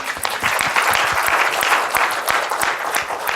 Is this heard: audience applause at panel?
yes